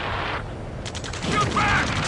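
Gunfire in Ace Combat 7 amid a combat radio scene, rapid rattling shots under a continuous noisy battle backdrop with shouted voices, short and loud.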